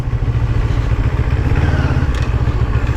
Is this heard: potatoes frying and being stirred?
no